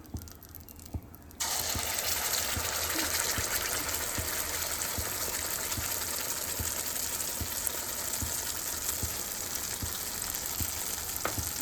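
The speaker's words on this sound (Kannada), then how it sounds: "ಇದು ಸ್ವಲ್ಪ ಹಸಿ ಸ್ಮೆಲ್ ಹೋಗೋವರೆಗೂ ಫ್ರೈ ಮಾಡ್ಕೋಬೇಕು" Masala sizzling in a hot pan for goat blood gravy, with a quiet start that bursts into loud, steady frying crackle and faint stirring knocks, continuing without pause.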